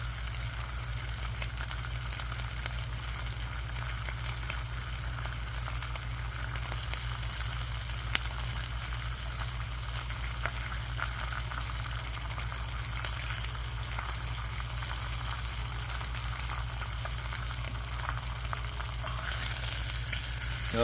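Pork butt bacon frying and browning in a pan, with a continuous dense sizzle and crackle that stays steady, close and moderately loud, with no talking.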